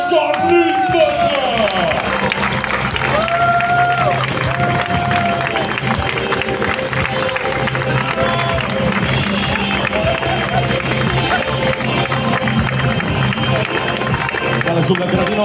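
An outdoor crowd at the Veneto Classic cycling race podium applauds and cheers the winner, with continuous loud clapping and crowd noise under an announcer's voice and background music.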